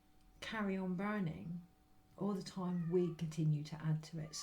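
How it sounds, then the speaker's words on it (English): A pet cat calling from outdoors, its meows faint and distant beneath a man's steady, close speech that carries on throughout. "That's my cat outside calling."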